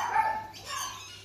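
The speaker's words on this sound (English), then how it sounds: "And noisy dogs in the background" Dogs bark a couple of times in the background, fairly faint and distant, with a short yelping quality against a quiet outdoor backdrop.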